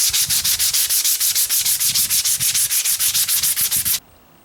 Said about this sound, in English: I'm starting with 80 grit sandpaper, and I'm just going to be sanding this smooth.